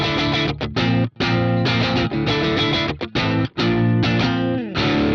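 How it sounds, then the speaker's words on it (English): Electric guitar played through the Archetype Plini X amp simulator with its bright switch engaged, giving a loud, sustained distorted chordal riff with brief rhythmic stops and no voice over it. "next we have the bright switch, which can be used to just add a bit of top end presence and clarity to this amplifier sound."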